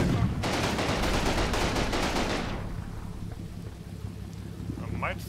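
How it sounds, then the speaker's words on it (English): Heavy rumbling fire of high-explosive rounds shelling a copse of trees in the Combat Mission WWII game, a loud crackling barrage for about two and a half seconds that fades into quieter background noise. "I'm just gonna put a few HE into there"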